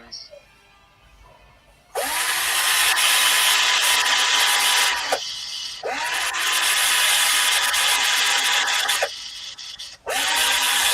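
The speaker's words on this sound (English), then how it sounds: "sanding out that bottom nub a little bit there." Power sanding on the bottom nub of a wooden bowl comes in three loud, close bursts of harsh abrasive whirring, each a few seconds long with a brief quiet gap between, and faint voices before the first.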